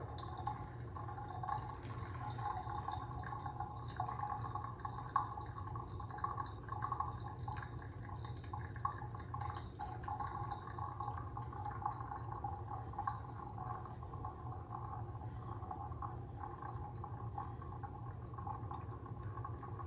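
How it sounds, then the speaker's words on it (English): Chemex coffee drains through a paper filter after water from a kettle, a faint, steady trickle with occasional soft drips under a low background hum, continuing quietly throughout. "So we'll let that continue to drain through the filter."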